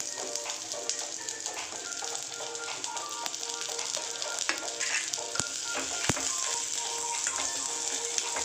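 Chopped onions sauté in hot oil with curry leaves for a crab masala, giving a steady, dense sizzle throughout with a couple of sharp clicks near the end. It is close and even, with no one talking.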